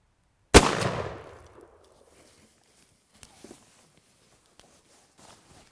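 A single loud shotgun blast firing a Longbeard turkey load of number four shot at a pattern target outdoors, sharp and close, with a long fading echo, then faint scattered footsteps and handling noises.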